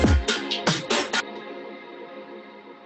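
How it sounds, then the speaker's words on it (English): Drums processed in Ableton through a drum bus, EQ and limiter: a short burst of kick and snare hits fading into a reverb tail, fairly quiet and heard alone. "And so the drums going through all this sounds like this"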